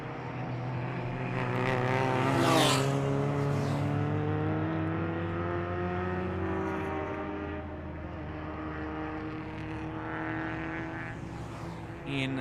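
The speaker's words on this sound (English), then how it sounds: "then next of the lead lap finishes will be that BMW E30 M3 in third place" A BMW E30 M3 race car crossing the finish line at a classic race at Jarama, with a loud engine note rising and then falling in pitch as it passes close by, while other cars drone behind it.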